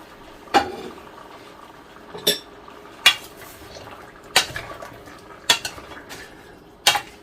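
A metal spoon scrapes and clanks against a pan as string beans and mixed vegetables are stirred for pinakbet, giving six sharp, evenly spaced knocks over a quiet kitchen background.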